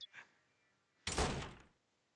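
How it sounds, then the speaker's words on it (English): Office doors slammed shut in Super Danganronpa Another 2, a faint opening click followed by one loud, close bang that decays over about half a second into silence. "shut the director's office doors with a loud bang as she left"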